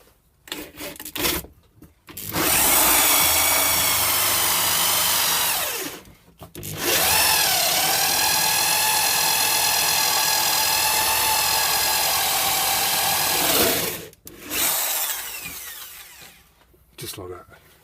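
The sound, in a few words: power drill drilling a hole through the side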